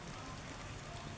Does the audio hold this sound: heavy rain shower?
yes